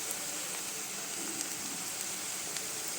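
Spinach frying in oil in a pan, a faint steady sizzle and hiss with a few light clicks, heard alone at a low level.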